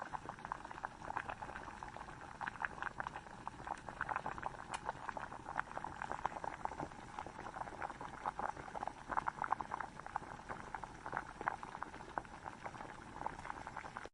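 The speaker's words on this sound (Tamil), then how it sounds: "நல்லா பச்சை வாடை போகிற அளவுக்கு நல்லா மசாலா கொதித்து வரட்டும்" Egg masala curry simmers and bubbles in a pan, a faint continuous crackle of small popping bubbles with a steady rhythm, close but quiet, without talk.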